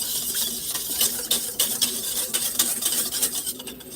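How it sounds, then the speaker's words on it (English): Orange and lemon juice mixture stirred in a container with a utensil, a close run of light scraping and clinking strokes with a steady hiss, fairly quiet and without voices. "Then I'm gonna put a little stir to it."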